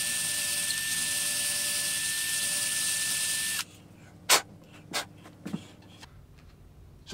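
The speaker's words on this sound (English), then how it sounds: "I'm going to use a drill bit and a cordless drill and clean up the hole." A cordless drill with a drill bit whines steadily for several seconds while cleaning out a bridge stud hole in a guitar, then stops, followed by a few sharp knocks and clicks in a quiet room.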